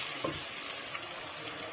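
Onions frying in hot oil with whole spices, a steady dense sizzle with a bright crackling hiss that stays loud and close throughout, with no voices.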